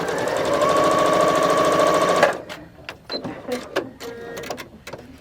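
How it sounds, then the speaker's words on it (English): A sewing machine runs in a steady, fast stitching burst while a quilt block is sewn with white thread, then stops abruptly, leaving scattered clicks and handling noises. "So let's just get this done real quick so that I can sew it on the bottom."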